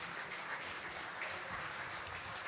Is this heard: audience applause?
yes